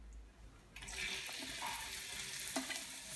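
Chopped okra frying in a pan, a low hiss that jumps into a bright, steady sizzle partway through, with a few stirring scrapes and a clack near the end, nearby and fairly quiet.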